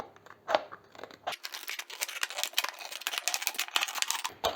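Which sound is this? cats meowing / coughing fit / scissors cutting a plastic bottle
scissors cutting a plastic bottle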